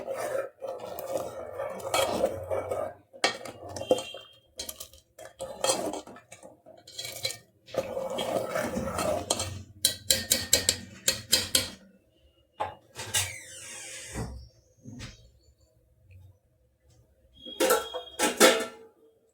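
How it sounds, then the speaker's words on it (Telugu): Pieces in a bowl being stirred and coated with paste for Andhra-style katta, giving repeated clinks, scrapes and knocks of a utensil against the bowl in irregular bursts, fairly close, with no talking. "ఈ ముక్కలన్నిటికీ పట్టేలాగా ఇలా తిప్పాలి."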